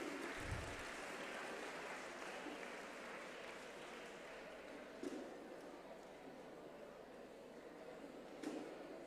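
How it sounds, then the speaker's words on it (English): Distant, washed-out applause from a seminar audience rolls on as a steady wash of clapping, faint and reverberant, with a brief low thump near the start. "Let us all give a huge round of applause for this great personality."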